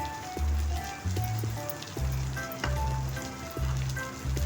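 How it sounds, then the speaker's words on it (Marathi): Chopped vegetables and capsicum tossed into a hot pan give a steady, loud sizzle, with repeated thumps and stirring scrapes at a roughly regular pace. "आता मी यात भाज्या टाकते सगळ्या शिमला मिरच टाकली"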